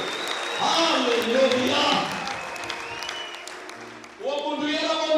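Church audience applauding, a broad wash of clapping beneath a speaker's voice, fading mid-clip and then rising again.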